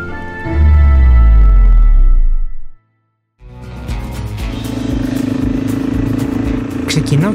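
A motorcycle on a solo ride heads off along an asphalt road, engine droning loud and close, cutting out for a brief moment of silence before rising again with a steady throaty run and wind rush.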